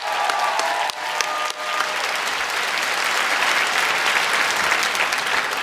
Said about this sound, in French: Donne-moi l'applaudissement.